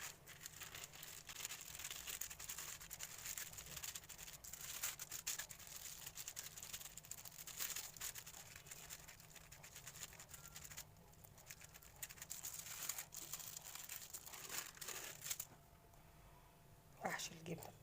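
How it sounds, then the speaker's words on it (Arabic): A plastic freezer bag is spread out flat in a home kitchen while cordon bleu is prepared, giving a continuous close crinkling and rustling patter with faint scattered sounds and no clear speech. "بجيب الكيس بتاع التلاجة بفرد"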